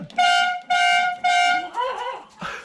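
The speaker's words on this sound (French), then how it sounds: "Et le klaxon?" A Ferrari's car horn blasts three times in quick succession, loud and close, followed by a shorter, wavering honk and a brief clunk.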